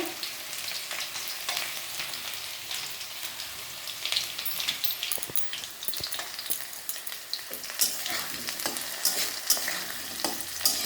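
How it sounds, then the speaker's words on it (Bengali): Potatoes fry and get stirred in a pan, a continuous close crackling sizzle broken by frequent scraping stir strokes that grow busier toward the end, with no talking. "আলুটা একটু ভাজা ভাজা হোক"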